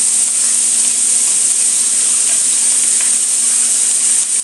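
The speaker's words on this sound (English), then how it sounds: "now we got a nice little sizzle going on there" Cube steak sizzles steadily in a hot pan, a loud, close, continuous frying hiss with no talking.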